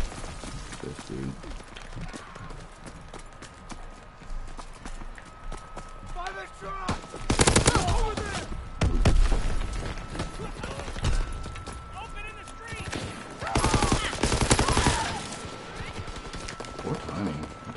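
Video game gunfire crackles in short, sharp volleys, with two heavier bursts standing out over a busy background of game noise while a player talks throughout.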